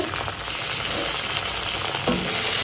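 Ginger paste and tomato fry in a hot pan, giving a loud, steady, close sizzle with a faint scrape of stirring partway through.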